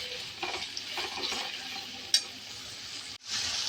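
Ingredients for tomato rice fry in a pan over a high flame, a lively sizzle broken by stirring scrapes, one sharp clink near the middle and a brief drop-out before the hiss returns.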